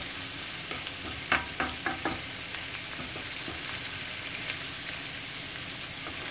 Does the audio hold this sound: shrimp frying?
yes